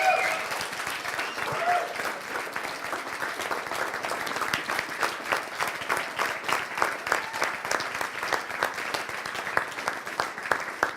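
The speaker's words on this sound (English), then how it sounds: "a big round of applause for Philip as a driver" A room of attendees at a coding bootcamp demo day in Berlin claps together, starting as a blended wash and turning into sharper, more distinct individual claps toward the end, fairly loud with some faint voices mixed in.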